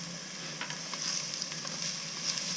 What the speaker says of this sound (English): I'm just going to fry them off.